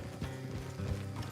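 Horses in a Western setting plod along with a soft, steady clip-clop of hooves on the ground, close by and muffled, with no talk over them.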